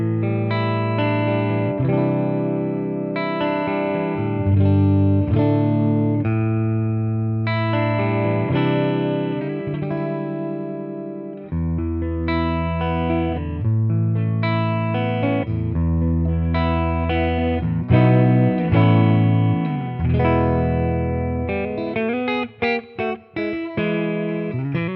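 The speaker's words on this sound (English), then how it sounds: "let's start with the clean tones" Clean electric guitar playing chords and melodic lines through a Boss Katana 50 EX Gen 3 amp, steady and fairly loud, with a short pause midway and no voices.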